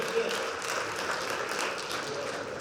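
A leadership-event audience gives a short burst of applause, steady clapping across a couple of seconds with voices mixed underneath.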